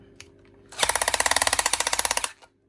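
A screwdriver ratcheting on a stiff screw of a Hoover brush vac panel, a quick run of about twenty evenly spaced sharp mechanical clicks, close and loud, ending abruptly.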